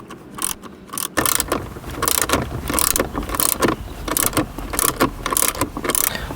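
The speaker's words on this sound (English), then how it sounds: "These screws are a self-tapping type of screw, and so they do require usually to use a ratchet to get them going." A hand ratchet clicks in quick repeated bursts, driving self-tapping 10mm screws into the center console of a Lexus LS, close and loud with brief pauses between runs.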